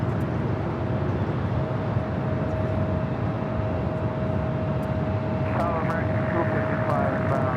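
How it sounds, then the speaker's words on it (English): A Boeing 787 Dreamliner airliner crossing over runway 24 left at Los Angeles airport gives a steady, broad engine roar that holds level throughout, with a faint tonal whine running across it. "A&A Dreamliner crossing over 24 left"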